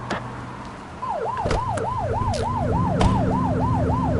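A video game police car siren wails, rising and falling in a fast, regular yelp over a steady engine hum, loud and close.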